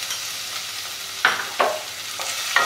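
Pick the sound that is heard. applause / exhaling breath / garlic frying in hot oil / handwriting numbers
garlic frying in hot oil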